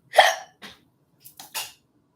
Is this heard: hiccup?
yes